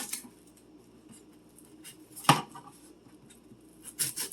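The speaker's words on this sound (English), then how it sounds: "And give it a quick mince." Knife chopping on a board as food is minced for a crockpot meatloaf, a few scattered soft taps and then one sharp loud chop, with a short cluster of quick cuts near the end.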